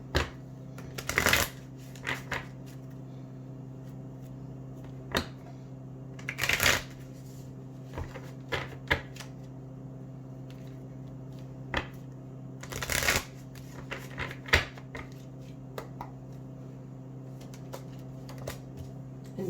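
Healing oracle cards being shuffled in sharp papery bursts, three longer riffles spaced across the stretch with soft taps and handling noises between them, close and fairly quiet.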